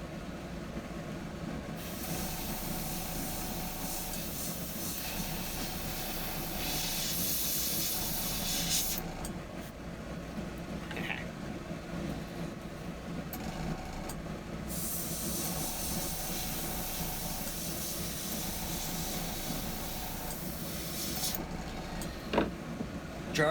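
Airbrush blowing continuous air and paint spray while being cleaned, a steady broad hiss that swells and drops back in long bursts, fairly close with no talk.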